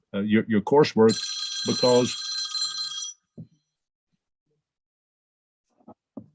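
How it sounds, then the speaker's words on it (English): An old-fashioned telephone ringtone trills continuously for about two seconds, loud and close, right after a man's speech breaks off, followed by faint brief voices. "You can tell I'm old fashioned with that ringtone"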